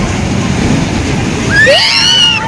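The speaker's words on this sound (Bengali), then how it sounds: "প্রচুর দেখো ঢেউ হচ্ছে, প্রচুর ঢেউ হচ্ছে, বড় বড়," Large sea waves roll and wash onto the beach at Udaipur on a rainy day, heard as a loud, steady broadband rush with a voice rising briefly near the end.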